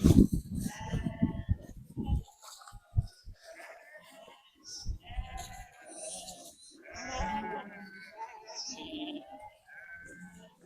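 A large flock of sheep with lambs bleats from many directions on a farm. Deep ewe calls and higher lamb cries overlap near and far, and people talk now and then.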